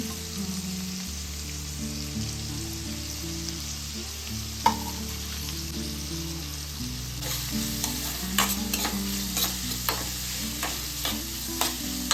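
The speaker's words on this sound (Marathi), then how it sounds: "त्यात कढीपत्ता आणि जो कांदा मी चिरून घेतला होता तो त्यात ॲड केला आणि छान कांदा परतवून घेतला" Onion and curry leaves sautéing in a pan with asafoetida, a steady sizzle under low hum with scattered clinks and scrapes of stirring growing busier toward the end; no voices.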